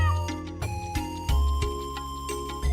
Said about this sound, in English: Oh, more kitties.